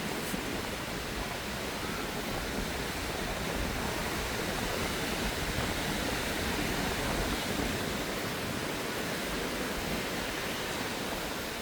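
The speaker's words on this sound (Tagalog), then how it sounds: "Kahit medyo malakas na konti yung alon." Waves break on Boracay beach in the Philippines on a day of fairly strong surf, a continuous broad wash of surging water with no clear breaks and no talk.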